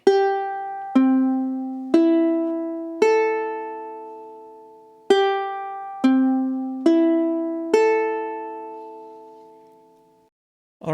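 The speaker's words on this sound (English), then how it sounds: "It is standard tuning, so your uke should sound like this." Ukulele strings in standard tuning ring out one at a time, eight single plucked notes in two rising passes of four, each note clear, close and left to decay before the next.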